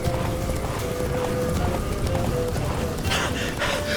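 Roach, the horse in The Witcher 3, gallops with steady rhythmic clip-clop hoofbeats at close range, and a short snort or whinny breaks in near the end.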